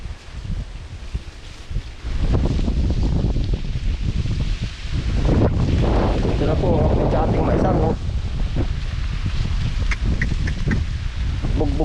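Wind roars and batters close by in a corn field after a quieter start, with rustling and muffled rumbling under faint voices.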